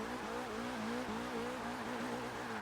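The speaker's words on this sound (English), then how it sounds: "That does one heck of a burnout." Porsche 944 Turbo doing a burnout in Forza Motorsport 6, a loud continuous engine drone with wavering pitch under a dense hiss of tire smoke and squeal, sustained throughout without talk.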